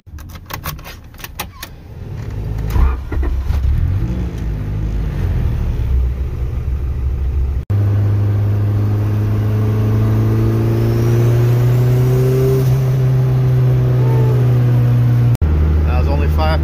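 Turbocharged B20 VTEC Honda Civic engine pulling hard on low boost around 5 psi, a loud steady drone with rising tones that climb through a long sustained acceleration, briefly cut twice.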